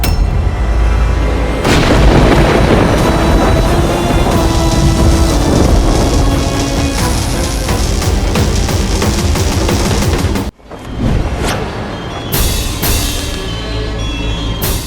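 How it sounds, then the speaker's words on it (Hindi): Thunderous booming barrages from the Indrastra divine weapon in a Ramayan battle scene, dense loud explosions and crackling impacts rolling continuously, then a sharp cut followed by fresh blasts. "इंद्रास्त्र।"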